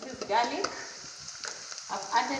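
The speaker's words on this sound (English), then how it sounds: "So guys, my garlic and my onions are getting cooked." Garlic and onions sizzle in a pot while cooking for a beef stew, a faint steady crackle with light stirring scrapes at close range.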